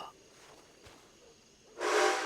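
A steam train whistle in Red Dead Redemption 2 blasts loud and sudden near the end, following a quiet stretch with faint rumble and a single soft knock.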